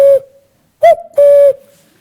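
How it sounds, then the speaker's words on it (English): A common cuckoo gives its two-note call, a clear, loud hooting pair of tones followed by a single isolated note, alone against silence. "the familiar two-note call of the cuckoo is our harbinger of spring"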